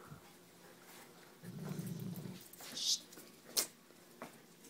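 A dog gives a low, rumbling growl for about a second at bedtime, with a few quieter whimpers and rustles around it in a quiet room.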